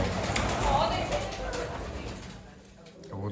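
Pigeons coo in a low, throaty murmur close by, with a voice talking over them and a busy background of other birds.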